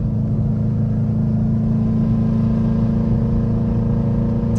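A built, turbocharged Subaru WRX with 1.5 turbos running 27 psi on pump gas pulls hard under acceleration, with a loud, steady, deep engine drone and rumble throughout, heard from inside the car.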